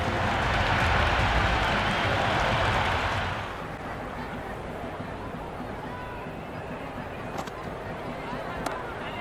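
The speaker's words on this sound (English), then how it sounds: "The crowd is electric right now." Crowd cheering in the Cricket 26 video game during a PSL 11 match between Islamabad United and Quetta Gladiators, a loud broad roar for the first few seconds that then drops to a steady murmur, with commentary voices over it.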